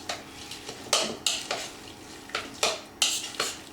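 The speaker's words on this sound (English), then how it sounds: "you want to stir that all together, get it all mixed in and well incorporated" Pimento cheese spread with bacon stirred together in a bowl, a series of close, sharp scraping and clinking utensil strokes in an uneven rhythm, with no talk.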